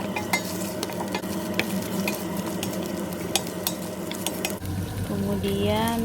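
Kohlrabi and well-cooked onions stirred in a pan, a steady close sizzle with repeated spoon scrapes and light clinks against the metal, ending in a brighter rattling scrape.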